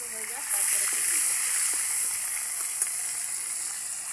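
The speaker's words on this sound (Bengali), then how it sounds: "এরকম করে বাদ বাকি মাছগুলো সব আমি ভেজে নেব।" Pieces of fish frying in a pan, a bright steady sizzle that swells a moment after they go in and keeps hissing close by, with a voice speaking over it.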